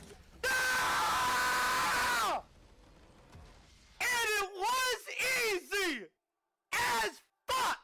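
A man screams after finishing a League of Legends match: one long, loud, strained yell, then a string of shorter wavering shouts and groans broken by brief pauses.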